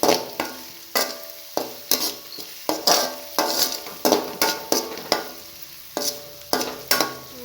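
Potato, beans and carrot for keerai biryani sizzle in a pan under a steady hiss, with regular stirring strokes and utensil scrapes about once a second, close up and without speech.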